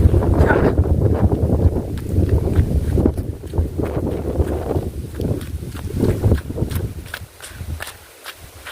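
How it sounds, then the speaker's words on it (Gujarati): Cold wind gusts outdoors and buffets the microphone with a rough, loud rumble that rises and falls, mixed with scattered light clicks and knocks. "પવન આવે ઠંડો ઠંડો"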